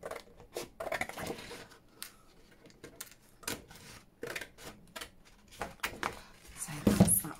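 Scissors snip through a paper journal card in a run of short, crisp, close cuts with irregular pauses between them, quiet and alone without talk.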